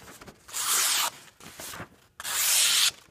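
A large full-flat-grind slipjoint knife blade slices through material in a cutting demo, three separate close scraping, rasping strokes with brief pauses between them.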